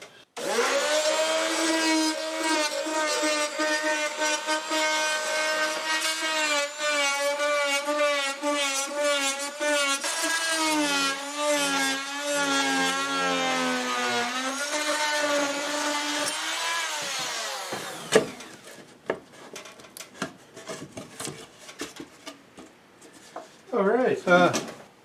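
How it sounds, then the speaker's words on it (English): A trim saw bites through 3/8 plywood, its motor whining loudly with a shifting pitch for about seventeen seconds before winding down, followed by clatter and handling knocks. "I'm going to go to my trim saw, and I'm just going to cut just through the 3/8 plywood right here"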